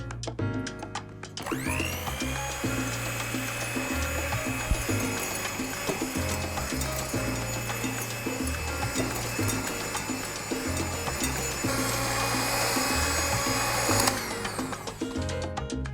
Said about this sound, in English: we're gonna whip them till we have a soft peak